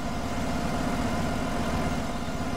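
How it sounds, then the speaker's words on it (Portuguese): A tractor engine drones steadily in Farming Simulator 17, a continuous low mechanical hum at a constant level with no break or obvious pass-by swell. "Deixa o trator passar."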